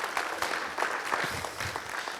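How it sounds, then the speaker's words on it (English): An audience at a city council neighborhood event applauds, a dense continuous patter of many hands at moderate level with faint crowd murmur beneath, holding steady for a couple of seconds. "Let's give the council a big round of applause for their leadership on this."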